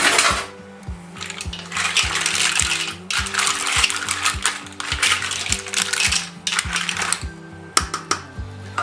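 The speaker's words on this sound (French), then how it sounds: "On met les moules." Repeated clattering and rattling as mussels tumble into a metal pot of curry sauce in quick bursts, with a low mechanical hum underneath.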